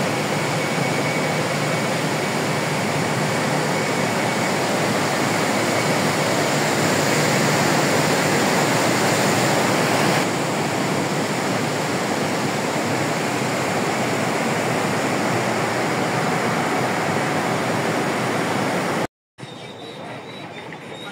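The Arun River rushes near the Arun III hydropower dam site, a loud, unbroken roar of fast water that holds steady until a brief dropout near the end.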